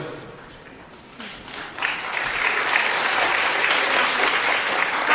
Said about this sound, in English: You guys are so polite out there. Clap after every answer.